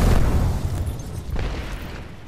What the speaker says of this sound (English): Arc star out. Throwing through my grenade.